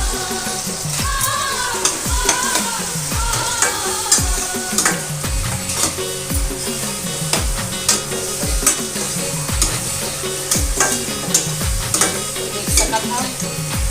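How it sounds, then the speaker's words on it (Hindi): Onion and garlic paste frying in a pan crackles in a steady, close sizzle while a utensil repeatedly scrapes and stirs in a rhythmic pattern, with a brief soft voice in the background. "अभी मैं डाला किसी में प्याज और लहसुन के पेस्ट डाल के थोड़ा तल देती हूँ।"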